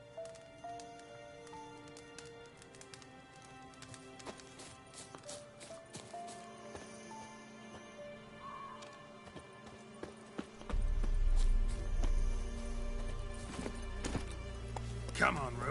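Geralt's horse Roach in The Witcher 3 moves in rhythmic hoof clip-clops. The hoofbeats are light at first and then grow heavier and louder in the second half, while a voice talks at times.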